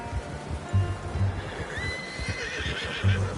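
A horse in Red Dead Redemption II whinnies in short bursts along with clip-clopping hooves, and a soft ambient wash sits underneath.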